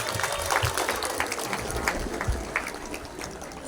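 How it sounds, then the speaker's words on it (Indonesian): Applause for kindergarten children in caps at an Indonesian village Independence Day ceremony, a scattered outdoor crowd clapping steadily and moderately loud. "Tepuk tangan untuk TK PAUD."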